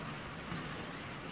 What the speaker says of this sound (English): if you can hear rain in the background